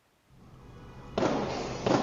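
Police firing gunshots at a car on a city road, two sharp loud bangs about a second apart over a rising background rumble, with no talking.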